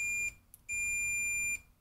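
A continuity tester used in restoring a 1946 Baby Champ radio receiver gives two clean, high electronic beeps when its leads touch, a short one then a longer one, close and alone.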